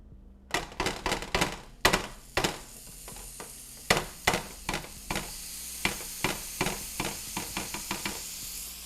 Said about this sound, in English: So another tablespoon of butter in another pan.